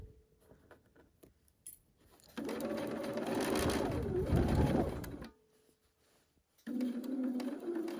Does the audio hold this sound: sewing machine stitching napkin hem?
yes